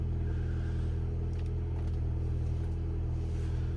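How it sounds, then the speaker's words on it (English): A 2011 Mini Cooper Countryman S engine idles steadily after a push-button start, a constant low rumble heard close up from inside the car, with no talk over it. "put your foot on the clutch and then start button right there. And the vehicle is on."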